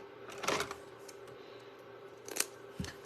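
Scissors cutting a sticker while a barn base for 3-inch round interchangeables is being prepared. Two brisk snips are heard close up over a quiet room, with a soft thud near the end.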